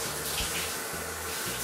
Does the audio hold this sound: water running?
yes